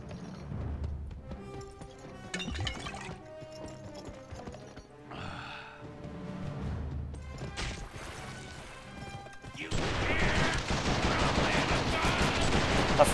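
Gunfire in the western video game Gun on hard difficulty: sharp shots crack here and there among hoofbeats and game music, and a dense burst of noise takes over near the end.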